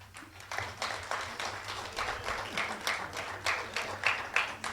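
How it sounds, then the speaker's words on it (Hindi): Sustained audience applause at a Hindi poetry recital (kavi sammelan) and award ceremony, given as farewell to poet Ramendra Tripathi; dense, steady clapping from a crowd across the whole stretch, without talk. "विदाई की तालियां दीजिएगा मुझे।"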